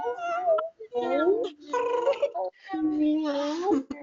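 Several adult voices imitate a cat meowing together in a group session, producing a few drawn-out, wavering meows one after another with short pauses between, close and clear.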